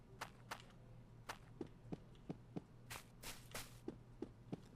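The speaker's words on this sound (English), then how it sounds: "footsteps will sound normal default, and then depending on the material you walk on," Footsteps in an Unreal Engine 5 game demo land on changing surface materials, steady paced thuds mixed with sharper scuffing clicks, fairly faint over a low hum with no talking.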